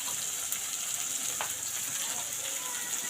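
Onion, garlic, ginger paste and chili powder fry in a pan, making a steady, fairly quiet sizzle with a faint clink or two and no talking.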